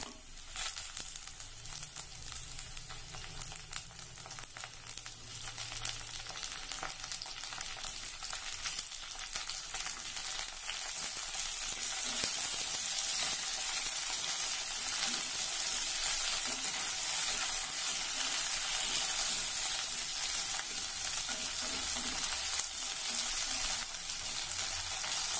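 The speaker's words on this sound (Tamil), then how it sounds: "வெங்காயம் லேசா வதங்கினதுக்கு அப்புறமா பாகற்காய் போட்டுக்கலாம்." Onion and bitter gourd sauté in a pan for a bitter gourd aviyal, giving a steady, close sizzle and frying crackle with occasional stirring scrapes. The sizzle grows slightly louder after the first few seconds and runs throughout without talk.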